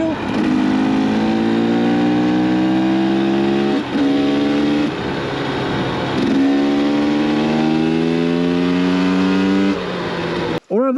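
A Lectron Billetron Pro Big Air electric dirt bike rides slowly uphill in sixth gear, its close, loud motor whine rising in pitch in repeated surges, with brief dips between pulls.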